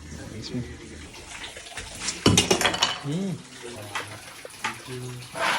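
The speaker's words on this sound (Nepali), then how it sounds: "यो पानीमा पखाल्छु" Water splashes and sloshes as something is rinsed in a kitchen, with dish and utensil clatter and bursts of running water, while people talk nearby.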